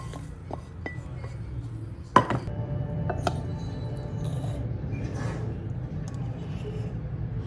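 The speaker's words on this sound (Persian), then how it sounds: "من ریختم تو کاسه که تا آخرین قاشقش داغ بمونه." A pan-cooked rice dish is served into a bowl, with scattered clinks of utensil against dish and one sharp knock in the middle, over a low steady background hum.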